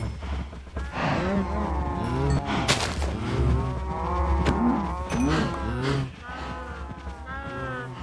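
Blocky cows in Minecraft moo repeatedly in overlapping calls from the farm herd, loud and near, over a steady low game hum with no talk.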